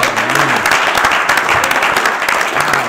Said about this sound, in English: there's going to be a whole lot of praising and hand clapping tonight